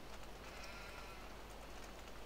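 Sheep bleat in Farming Simulator 17 amid a steady, dense wash of game ambience and noise, with the bleats faint and blended into the constant background rather than standing out.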